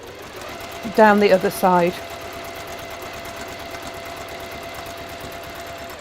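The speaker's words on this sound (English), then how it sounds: "Just going down the one side of all the triangles turning it round and then sewing" A sewing machine chain pieces fabric triangles, running steadily at a moderate hum throughout while a voice briefly speaks over it.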